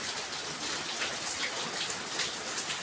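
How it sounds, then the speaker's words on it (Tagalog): Heavy rain pours steadily during a stormy spell, a dense, even hiss of drops on surfaces with no breaks and no voices. "Lakas sa ulan."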